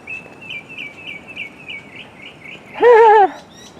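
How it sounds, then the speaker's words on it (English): Doves call outdoors: a string of faint, evenly spaced high chirps, then one loud, close, wavering call near the end. "Those are doves."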